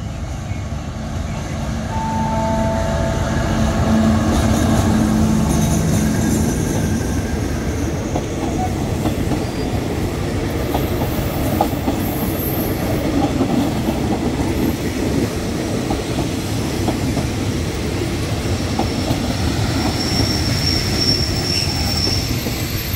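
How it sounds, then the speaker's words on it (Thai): Ordinary train No. 261 pulls into the platform at Bang Sue Junction, Bangkok, with a steady loud rumble of wheels and rail clatter, faint squeals and a platform announcement voice briefly over it. "ชานชลาที่2ขบวนรถธรรมดาขบวนที่261 มาแล้วครับ"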